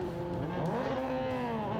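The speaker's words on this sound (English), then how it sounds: "Off goes the safety car." A safety car accelerates away at the start of a Toyota Racing Series feature race at Highlands, its engine note rising and sweeping upward over a couple of seconds at moderate distance.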